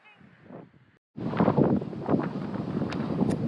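Strong storm wind buffets the microphone aboard a cruising sailboat at Green Turtle Cay in the Bahamas, a loud steady roar that swells after a brief lull, with faint rustling underneath.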